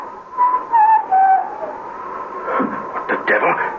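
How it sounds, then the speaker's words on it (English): Someone whistles a faint, thin melody in a few short phrases heard through a radio-drama soundscape, followed by footsteps or rustling movement nearby. "the sound of whistling. Faint, but recognizable."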